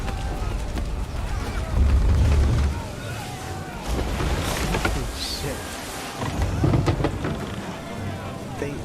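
A storm at sea in an Assassin's Creed game: roaring wind and crashing ocean waves in a loud, continuous wash with heavy low surges, while a man briefly exclaims over the noise.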